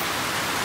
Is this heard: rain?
yes